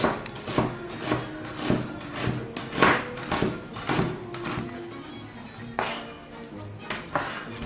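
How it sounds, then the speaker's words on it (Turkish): A knife chops an onion into half-moon slices on a cutting board, giving a steady series of crisp, close taps with brief pauses between runs. "Öncelikle her zaman olduğu gibi soğanı doğruyoruz."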